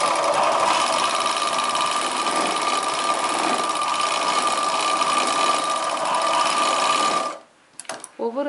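A sewing machine stitches the side seam of chudidar pant yoke pieces in one steady, close, continuous run of about seven seconds. It stops abruptly, followed by a few faint handling sounds.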